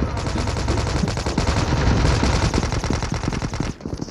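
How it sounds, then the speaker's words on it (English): A sentry gun in Call of Duty Mobile fires nonstop rapid automatic bursts, loud and close, for several seconds before cutting off abruptly near the end. "Friendly sentry gun deployed."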